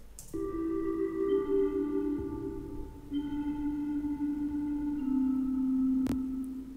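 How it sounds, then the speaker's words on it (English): A low, sustained wind-instrument melody with a hollow, slowed-down tone, holding long notes that step in pitch, with a sharp click near the end. "I actually pitched down the main melody, which is the flute"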